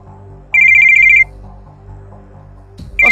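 An outgoing phone call to a locksmith rings loudly: one long ring burst, a pause of near silence, then the next ring starting.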